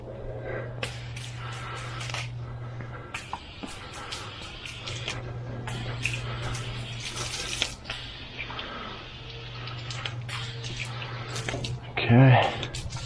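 A garden hose on shower setting sprays water over slate, a continuous hissing wash with small splashes and a low hum underneath, while someone talks over it.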